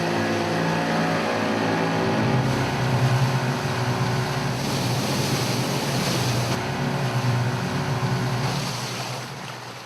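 Boat engine running on open water, a steady loud drone with wind and wave wash over it for the whole stretch, close and continuous with no voices.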